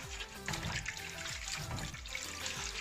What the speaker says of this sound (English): The beans is already soaked, so now I have to start washing it.